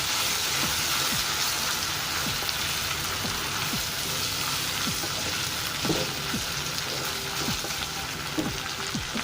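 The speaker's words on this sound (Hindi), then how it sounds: "अब 1/2 टीस्पून जिंजर पाउडर और 1/2 टीस्पून गार्लिक पाउडर जो है वो हम इसके अंदर डालेंगे और इसको फ्राई करते हैं" Ginger and garlic powder frying in a pan for chicken with black lentils, a quiet rain-like crackling sizzle with small pops and occasional light stirring, steady and close with no one speaking.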